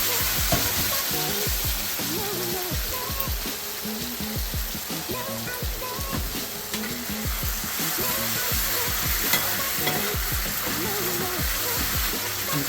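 Base gravy for a veg madras curry sizzling and bubbling hard in a hot pan as it reduces, a loud continuous frying hiss with crackling pops throughout.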